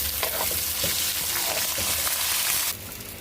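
A spoonful of garlic and ginger paste added to browned onions sizzles steadily in a hot pan, with stirring scrapes heard up close and loud.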